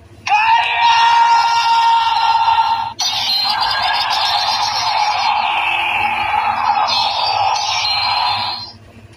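A toy Henshin transformation belt blares a powerful recorded scream, loud and strained: a sharp two-and-a-half-second yell, then a brief gap and a longer sustained roar of about six seconds that wavers before cutting off.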